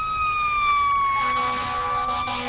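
An ambulance siren wails loudly nearby as a long, slowly falling tone over a noisy street background, with a second siren tone joining partway through.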